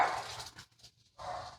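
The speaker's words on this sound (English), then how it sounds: "Sorry, my dogs are excited." Excited dogs bark indoors, two short, close bursts separated by a brief quiet gap, fairly loud and alone without talk.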